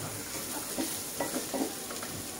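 Vegetables, including bitter gourd, sautéing in a pan over medium heat, with a soft steady sizzle and a few faint stirring scrapes close by.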